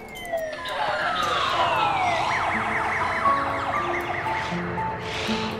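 A wailing ambulance siren in SimCity sweeps up and down steadily over a busy game soundscape with music and effects, loud and continuous.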